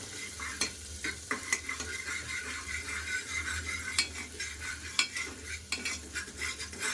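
Spices sautéed in oil until red for a plain sambar, a soft continuous sizzle under frequent sharp scrapes and taps of a spoon against the pan, close and fairly quiet, with no voices.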